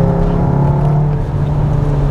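A VW Arteon R Shooting Brake with a 7-speed DSG, 4Motion all-wheel drive and torque vectoring pulls out of a corner, its engine droning loud and steady from inside the cabin.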